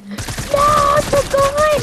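Gunfire from a new shotgun in the video game Fortnite, heard as a loud burst of rapid shots with ringing tonal effects layered over it, filling nearly two seconds without any talking.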